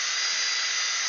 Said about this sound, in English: is that a drill I see? It is a drill.